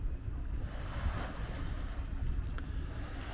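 Waves washing on the water at the Liverpool waterfront at night, a steady broadband rush mixed with wind buffeting the microphone, with no one speaking.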